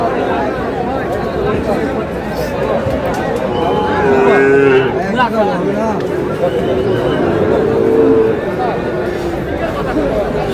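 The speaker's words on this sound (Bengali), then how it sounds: "শাহিওয়াল ষাঁড় দেখছিলাম এখানে।" A Sahiwal bull at a busy cattle market gives a loud, drawn-out moo midway, heard over constant crowd chatter and nearby voices.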